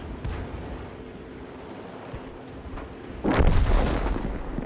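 An SU-122A tank gun in a video game fires a round, a single heavy boom with a rumbling tail that rises out of a low background hum late in the clip, with no talking.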